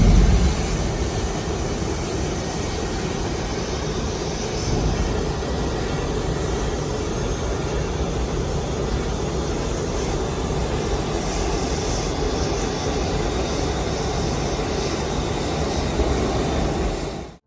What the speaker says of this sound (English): This Boeing turns on its right side engine for the first time after getting a completely new engine.